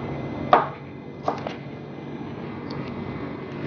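A knife cuts through a red bell pepper on a board, giving one sharp crisp chop followed by a few softer taps and light slices, close and distinct over quiet room tone.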